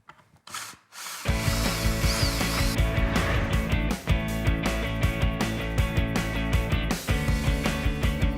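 Power drill driving into wood to fasten a bracket onto a skateboard bookshelf, a loud continuous whirring buzz after a brief start, broken by short ratcheting clicks and pauses.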